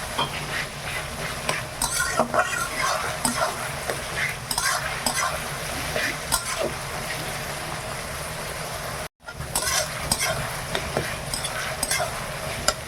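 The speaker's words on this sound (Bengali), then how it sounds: "খাসির মাংস মশলা বেশি ভাজা যাবে না খাসির সঙ্গেই কষানো হবে" Mutton and chicken fry in a pan with a steady close sizzle while a utensil stirs and scrapes through the meat in irregular strokes; no one speaks.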